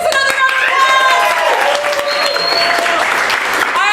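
Sustained applause from a live audience at an improv comedy show, a dense steady wash of clapping and crowd noise filling the whole stretch at close range.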